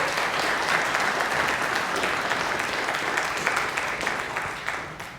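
A concert audience claps along in New York, a dense, steady wash of many hands that stays loud and then eases slightly toward the end.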